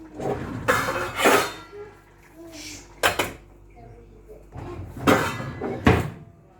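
Metal lid clanking onto a cooking pot of meat pie filling in a kitchen, several sharp clinks and knocks spread across the stretch, heard between bursts of a person talking.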